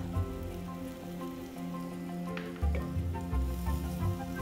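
Chopped onion frying in oil with whole cloves, cardamom and cinnamon, a soft continuous crackling sizzle with a low hum underneath, fairly faint.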